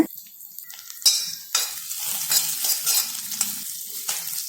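Onions, curry leaves and garlic sauté in a pan for sambar, giving a steady close sizzle broken by scraping stirs and light utensil clinks, with no talk.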